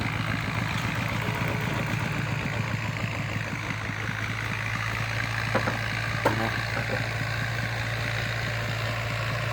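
A walk-behind tractor engine runs steadily in the open while cassava variety 81 is planted, a continuous low thrumming drone with a few faint knocks, no talk over it.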